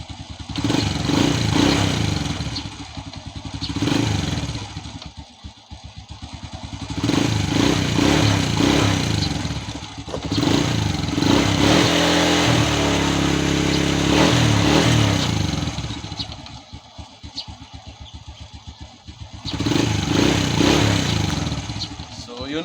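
A Honda Wave motorcycle running on freshly changed oil idles and revs up in repeated surges, loud and close, while someone talks over it at times.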